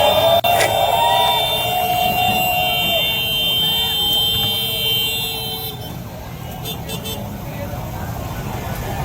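Heavy traffic on EDSA at 3 a.m., with sustained horn-like tones and a siren-like wail over a steady rumble of engines. A voice talks over it, and the tones fade after a few seconds into a quieter traffic hiss.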